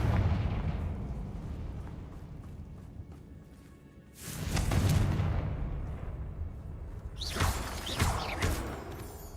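Confringo fire spell blasts in Hogwarts Legacy come as two heavy explosive whooshing bursts over a low rumbling game ambience, the second followed by sharper crackling debris.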